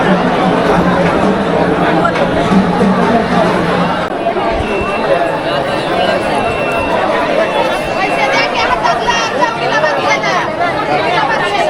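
A dense crowd of pilgrims chatters at a busy temple in the morning, a continuous babble of many overlapping voices close around, with footsteps and shuffling mixed in.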